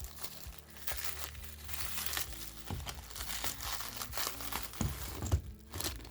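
Plastic wrapping is pulled off a tier stand build, with close, loud crinkling and crumpling in irregular bursts and a few tearing sounds.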